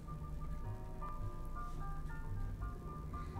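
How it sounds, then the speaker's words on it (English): An ice cream truck's jingle plays as a thin, repeating electronic melody of bright tones over a steady low road and engine rumble, heard from inside a car. "What is this noise?"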